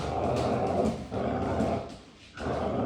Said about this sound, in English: I need that growling.